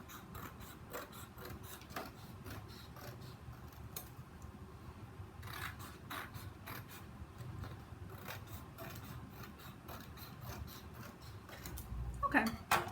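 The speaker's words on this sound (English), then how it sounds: "I'm just going to cut a couple of these strips." Scissors snipping through paper strips for a 3D paper rose greeting card: a run of quiet, irregular crisp cuts and rustles close by, with a louder rustle near the end.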